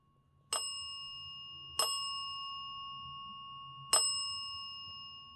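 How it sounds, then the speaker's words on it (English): A bell rings three times, each a sharp, bright strike that rings out and fades slowly, with the second following soon after the first and the third after a longer gap, heard alone in a quiet room. "Azazel, can you make the bell ring just 3 times?"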